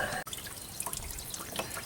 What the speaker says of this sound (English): I'm going to spray that with water.